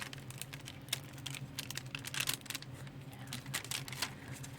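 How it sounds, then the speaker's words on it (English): Sheet of fused plastic bags peeling off parchment paper as it cools, giving a dense run of quick crackling pops and ticks close up, with no voices. "you'll hear it popping and peeling off of the parchment paper"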